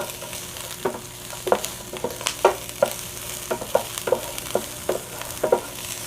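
Onions sautéing in a pan over lowered heat while being cooked for beef kaldereta, with a soft steady sizzle and a series of sharp scraping and stirring knocks against the pan, close by.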